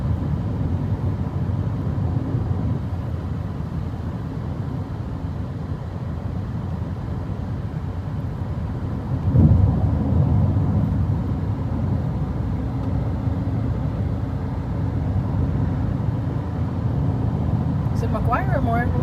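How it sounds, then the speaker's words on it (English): Steady low rumble of a car driving through McGuire Air Force Base, a continuous road and engine drone with a brief louder swell partway through; voices speak over the cabin noise. "we are now driving through McGuire Air Force Base"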